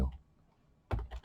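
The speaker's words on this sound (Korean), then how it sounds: "제가 지금 말도 안 되는 키보드질을 하고 있는 거예요" A computer keyboard clacks in two short bursts of quick keystrokes, with a quiet pause between them and a faint voice underneath.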